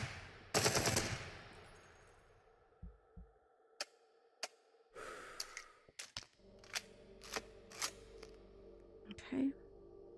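Bursts of automatic rifle fire at a shooting range in the VR game Into The Radius, sharp rapid cracks in short volleys with mechanical clicks between them, fairly quiet overall.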